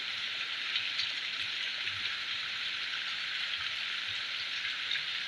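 Steady rain pours down without a break, a dense even hiss with scattered drops pattering close by.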